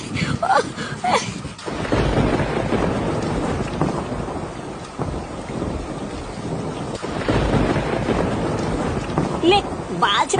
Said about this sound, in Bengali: বৃষ্টি শুরু হলো তো।